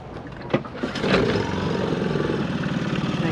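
A dinghy outboard engine runs steadily while being flushed with fresh water, a close, continuous motor drone after a few brief knocks and bumps at the start.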